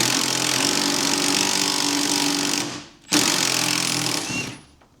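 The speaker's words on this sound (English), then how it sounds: "We're actually undoing the top mount here." A power tool working the rusty strut top mount on a Renault Clio RS200, a loud continuous rattling whir that stops briefly, restarts, then tapers to quiet, close by.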